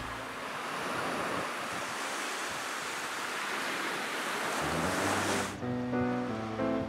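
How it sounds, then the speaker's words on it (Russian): Sea waves splash against a steep pebble shore on the Crimean coast, a steady broadband surf roar with wind noise. Music comes in over the surf near the end. "Здесь море плещется у крутых берегов"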